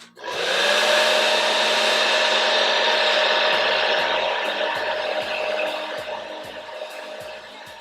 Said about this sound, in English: As y'all can see, my blow dryer,